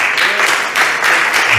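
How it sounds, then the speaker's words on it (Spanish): Church congregation applauding for Jesus during a sermon, a loud, dense burst of many people clapping at close range, continuing without a break through the short moment. "¿Quién les da un aplauso a Jesús,"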